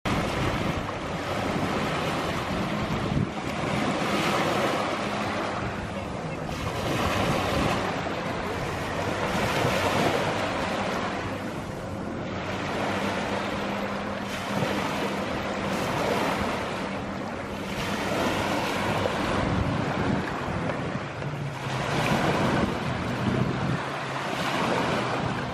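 Ocean surf at a beach rolls in steady, repeated waves, a loud continuous roar with rhythmic swells and heavy wind buffeting the microphone.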